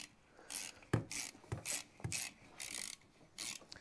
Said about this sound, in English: is 12 mil spanner. I'm going to pull back this spring and take the bolts out.